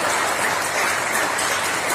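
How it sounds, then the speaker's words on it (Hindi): An audience claps steadily to welcome a speaker at a police yoga event, a dense, even patter of many hands with no voices over it. "एक अच्छी तालियों के साथ स्वागत कीजिए"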